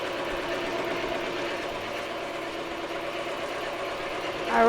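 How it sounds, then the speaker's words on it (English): An embroidery machine stitches out a design on a customized cosmetic bag, its steady, even mechanical hum and rapid needle pulse running without pause, close and moderately loud, with no voices. "I'll go ahead and let her start stitching out"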